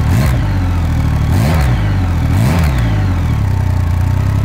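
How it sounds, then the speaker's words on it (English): A triple-cylinder motorcycle engine revs hard several times, its deep, beefed-up exhaust note rising and falling over a steady loud idle rumble close by. "a really beefed up sound at the exhaust too"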